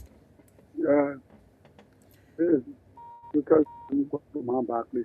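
Telephone dialing tones on a radio call-in line as a caller is connected, a few steady beeps heard between bursts of a man's speech.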